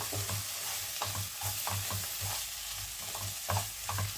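Tomato and chili powder being stirred in a pan, a steady fry with a spoon scraping and turning the mixture in regular strokes, close and clear with no talking.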